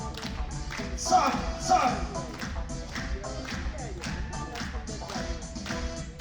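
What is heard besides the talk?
audience clapping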